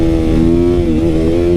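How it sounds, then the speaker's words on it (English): A dirt bike engine revs hard in third gear as the clutch is let out for a wheelie, a loud, close, sustained buzzing drone with a slight dip and recovery in pitch. "Pull in the clutch, let off the clutch and give it gas at the same time."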